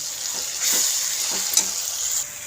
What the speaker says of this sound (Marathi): आणि लाल तिखट घेतलेला आहे ते ॲड करूया आणि छान याला मिक्स करून घेऊया